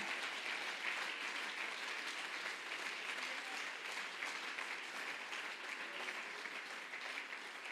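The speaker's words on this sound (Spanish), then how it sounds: "Dale un aplauso fuerte al Señor." Church congregation applauding during a Spanish-language sermon, a dense, steady wash of clapping that holds at an even level from start to finish, with no voice rising above it.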